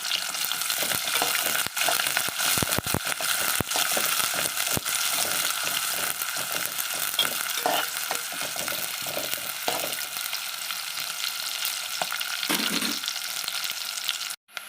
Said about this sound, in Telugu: ఇదిగోనండి, ఉల్లిపాయ వేగిపోయింది